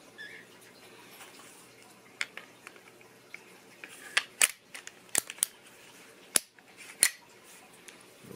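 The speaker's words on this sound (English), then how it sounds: "just going to put the slide back on." Metal slide of a Girsan Regard pistol slid back onto the frame, a sequence of sharp, close metallic clicks and scrapes, sparse at first, then several crisp snaps in quick succession, with no talk.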